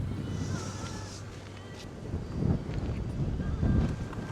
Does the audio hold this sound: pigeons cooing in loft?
no